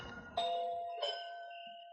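A two-tone doorbell chimes ding-dong in a vintage radio detective drama, ringing once clearly with the tones lingering and fading into quiet.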